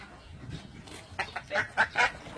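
Khaki Campbell laying ducks on a duck-egg farm give a short run of four or five loud, nasal quacks close by, following a quieter, muffled stretch.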